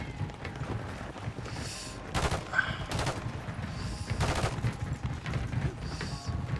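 Call of Duty gunfire, several bursts of distant shots over a few seconds against a steady noisy game background.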